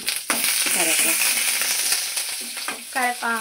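Green chillies sizzle and crackle loudly in a very hot pan with the gas switched off, a close, continuous frying hiss under brief bits of conversation.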